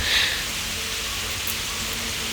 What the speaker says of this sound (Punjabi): ਮੀਂਹ ਨਹੀਂ ਹਟਦਾ